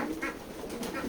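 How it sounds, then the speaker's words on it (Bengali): Pigeons coo repeatedly at a pigeon farm with local and foreign breeds, soft rounded calls rising and falling close by in a busy overlapping rhythm. "কবুতরের খামার"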